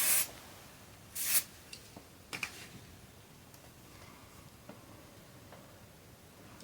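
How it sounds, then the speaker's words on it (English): Hairspray is sprayed onto fine hair in two short, close hissing bursts near the start, followed by a few faint ticks and soft handling sounds in an otherwise quiet room. "I need to spray it in between because I have very fine hair that does not"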